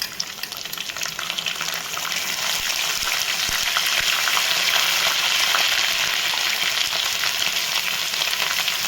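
Dry chillies, bay leaf, curry leaves and ginger paste frying in hot oil for a stuffed brinjal curry, a continuous loud sizzle with crackling spits throughout.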